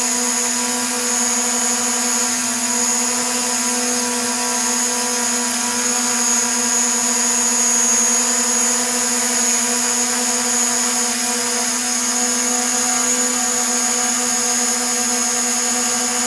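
A DJI Mavic Pro drone hovers nearby with a steady, high-pitched whining buzz, a constant motor drone with strong tonal hum that holds unchanged throughout, with no talking.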